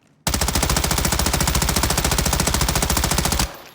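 A long automatic burst of rapid gunfire from a weapon in Warzone, loud and evenly paced, starting abruptly and cutting off after about three seconds.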